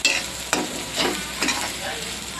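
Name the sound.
stirring food in a frying pan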